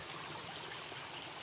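A clear river flows steadily nearby, a soft, continuous wash of rushing water with no voices over it.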